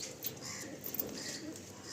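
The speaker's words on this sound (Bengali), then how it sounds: "লফটের পায়রা" Pigeons in a loft give soft, low, rolling coos, fairly faint and continuous against a quiet background.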